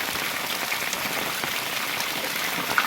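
Steady unseasonal rainfall over Shedhakhai village in Bhanvad taluka, Devbhumi Dwarka: an even, unbroken wash of falling drops pattering on surfaces nearby, moderately loud and without speech.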